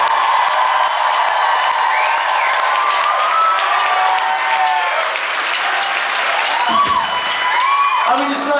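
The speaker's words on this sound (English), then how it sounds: "yourselves a big round of applause" A large arena crowd at a rock concert applauds and cheers, a dense, loud roar of clapping mixed with shouts and whoops that holds steady throughout, with a few higher cries rising above it near the end.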